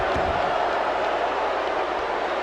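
A dense, roaring arena crowd in the WWE 2K wrestling game keeps up a steady wash of cheering and noise, loud and sustained with no breaks.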